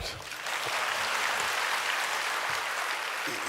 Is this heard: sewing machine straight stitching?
no